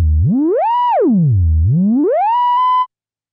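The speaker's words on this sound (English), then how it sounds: "We can use the cutoff to change its pitch." Self-oscillating filter of an Arturia KORG MS-20 V software synth with the cutoff being moved: a loud pure tone that swoops from low up to high, back down, then up again before cutting off abruptly, heard alone.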